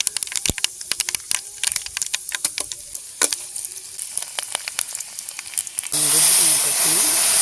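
Tempering for village-style tomato dal, dried red chillies crackling in hot oil in a pan, sharp irregular pops and spits over a soft background, ending in a loud steady sizzle.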